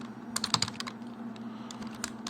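Someone types author names into Mendeley on a computer keyboard, giving quick, close clusters of light key clicks over a low steady hum.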